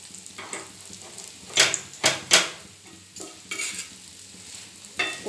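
Egg paratha fries in a pan with a steady low sizzle, punctuated by several loud scraping and clattering strokes of a utensil against the pan, close by and with no voices.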